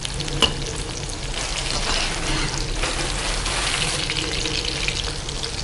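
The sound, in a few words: deep frying chicken 65 on low flame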